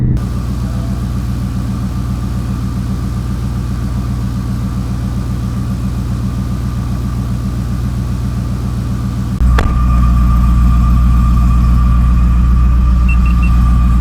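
A Ford F150 engine built for big boost runs on a dyno, a loud steady rumbling drone that deepens and grows louder with a sharp shift about two-thirds through, no talk.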